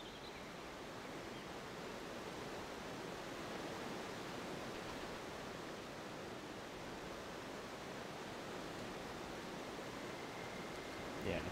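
A waterfall in the video game Breath of Fire IV gives a steady, even rush of water noise. It stays soft and unbroken throughout.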